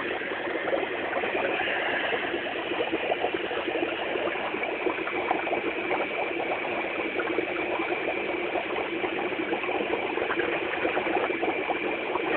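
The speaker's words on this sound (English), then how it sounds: "The water's draining." Water drains out of a dry ice and hand soap bubble container in a steady, close, bubbling gurgle that runs without a break and holds an even level throughout.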